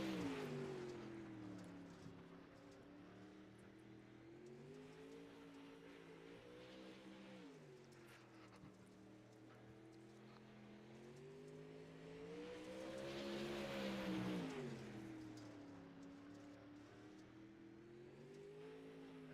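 A pro late model race car laps Lanier Speedway in a qualifying run, its engine droning steadily with rising and falling pitch through the turns, swelling louder as it passes closer, with no voices.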